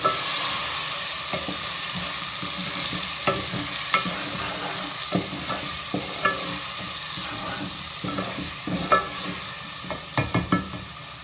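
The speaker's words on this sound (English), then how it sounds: "coriander powder, turmeric powder and mix them" Coriander and turmeric powder being stirred into a pumpkin dish cooking in a pan, with a steady sizzle underneath and repeated scraping knocks of the spoon that grow more frequent toward the end; no talking.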